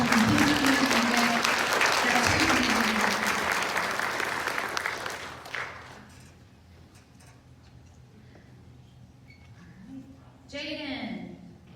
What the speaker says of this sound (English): Let's give Ms. Brinley a round of applause.